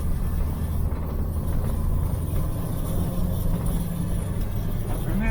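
A Jeep CJ-7 engine fitted with a Weber 32/36 carburetor runs at full throttle and bogs, giving a steady, loud, close low rumble with no clear rise in revs throughout.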